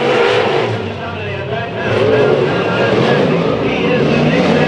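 Four race cars battling at Bakersfield Speedway, their engines a loud, continuous roar with a brief dip and then a surge back up, heard under a commentator's voice.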